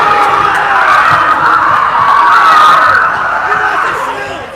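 Excited fans at a girls' junior varsity and varsity high school basketball game, a loud, continuous crowd roar of cheering, shouting and laughter close to the microphone, with voices blending into a dense wall of noise.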